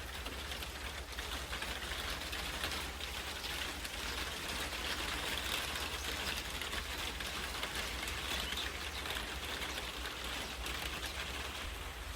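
Steady rain during the rainy season on a rural farm, a constant dense hiss of falling drops throughout, with faint bird calls in the background and no talk.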